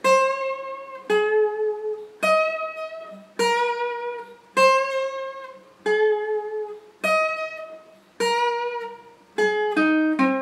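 A lone electric guitar plays the small filler riff from a song: a run of distinct picked notes, about nine bright phrases that each ring and decay, with a quicker flurry of notes at the end.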